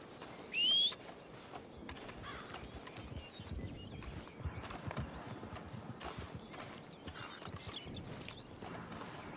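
Steady clip-clop of horse hooves at a quick pace in the game Syn County, faint and continuous, with a brief chirp near the start.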